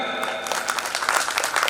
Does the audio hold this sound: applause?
yes